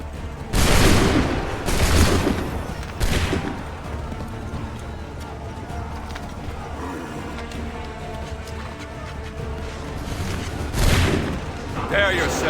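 Musket volleys ring out in Assassin's Creed 3, several loud ragged bursts of massed gunfire near the start and again toward the end, with rumbling battle noise and shouted voices between them.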